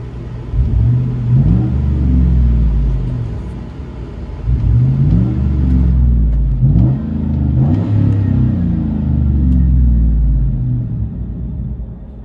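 Interior view of a 2012 Chevy Avalanche with a 5.3L V8 and straight-piped dual exhaust, loud rumbling revs rising and falling in several bursts over a steady idle drone, with no talk.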